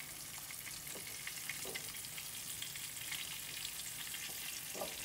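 Cube steak browns in a frying pan, giving a faint, continuous hissing sizzle throughout, with a few soft scrapes underneath.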